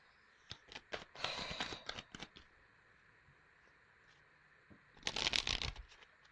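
Tarot cards are shuffled close up in quick riffling bursts, a crisp flurry of flicks, a pause, then another dense shuffle.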